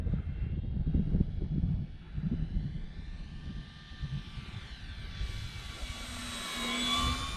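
A Dynam Hawker Hurricane V2 RC model airplane flies overhead, its small electric motor droning with a rising and falling whine as it passes and turns, moderately loud against a low wind rumble.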